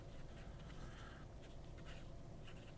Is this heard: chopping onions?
no